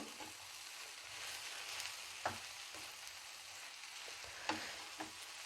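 Eggs with grated coconut fry in a pan, giving a constant soft sizzle with occasional sharp scrapes of a spoon stirring, close and quiet.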